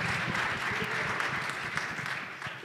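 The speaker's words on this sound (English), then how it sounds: "round of applause" An audience gives a steady round of applause at a youth-day concert, with dense clapping continuing throughout.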